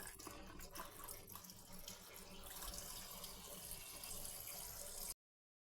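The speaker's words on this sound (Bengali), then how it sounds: "আমার মাছটা ভালো করে না ধুলে খাইতে ইচ্ছা করে না, ধুয়েই যায় ধুয়েই যায়।" A kitchen tap runs in a steady splashing stream while small fish are rinsed under it, with slight shifts in the flow and a few light knocks before it cuts off abruptly.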